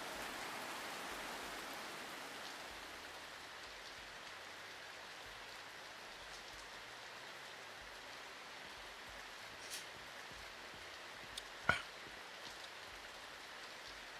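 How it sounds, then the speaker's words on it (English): Steady rain hisses throughout a hunting scene in the video game theHunter Classic, a dense even wash of falling water with one brief sharp click near the end and no talking. "Man, that rain"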